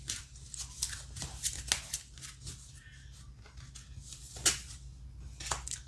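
Tarot cards are handled, shuffled and drawn close up, with soft papery flicks and sharp snaps scattered irregularly over a quiet background.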